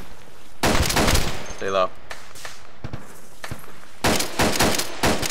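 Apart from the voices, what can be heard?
gunfire from Arma 2 video game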